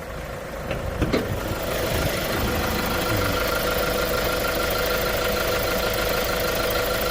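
A steady, low engine hum from a Hyundai Grand Starex five-seat glass van idles continuously after a brief clunk at the start, even and unvarying.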